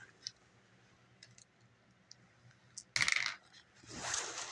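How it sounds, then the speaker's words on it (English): A six-sided die and a scatter die are rolled in a Bolt Action tabletop wargame. A few faint clicks come first, then a sharp, close rattling clatter and a second, softer tumbling rattle at the end. "We'll roll 1d6 and a scatter dice"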